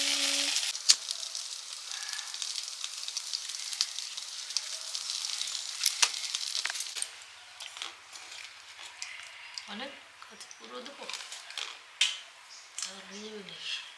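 Steady crackling sizzle of eggplant frying in a pan, close, fading quieter midway as a voice talks softly over it.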